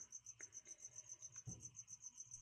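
Crickets chirp in a steady, rapid pulsing trill, faint and continuous, with a couple of soft bumps and taps nearby.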